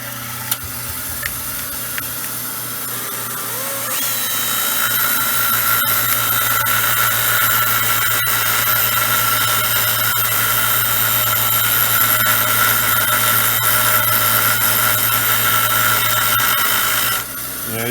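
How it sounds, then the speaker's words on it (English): A metal bushing for a Samsung dryer belt tensioner, spun in a drill and ground on a bench grinder, making a steady loud whirring grind that starts a few seconds in and runs for over ten seconds. "when I spin this in a drill, I can accurately take away material in the OD of that bushing on a bench grinder"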